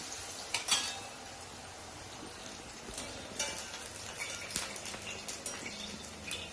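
Vadas fry in hot oil in an AMC pan, giving a soft, steady crackling sizzle with occasional sharp pops and a few light utensil clinks.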